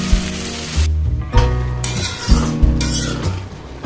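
Village-style desi chicken curry cooks in a pan, a loud close sizzle broken by several sharp spoon knocks and scrapes against the metal, with no one speaking.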